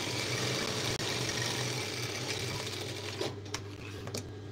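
Sewing machine stitching skirt panels, a steady close mechanical whir running throughout with a brief dropout near the start and slight variations toward the end, no talking.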